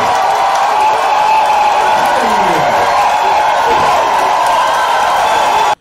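Crowd at a church gathering cheering and acclaiming as a pastor, a man of culture, takes the microphone; a dense, steady wall of voices and applause-like noise holds throughout, loud and close, then cuts off abruptly at the end.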